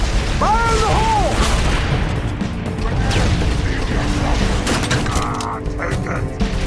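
Grenade blast and gunfire in the Halo 3 ODST game at Police HQ, heavy booms and bursts of shots mixed with shouted voices and chirping alien calls, loud and close.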